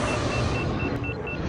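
A podracer engine from the PC game Star Wars Episode I: Racer roars in a dense, continuous whine with a faint high tonal edge, steady and loud for the brief moment heard.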